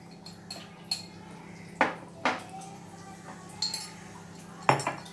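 Mushroom masala cooking in a pan after half a teaspoon of garam masala goes in, with a spoon scraping and clinking against the metal in several sharp strikes over a low steady background.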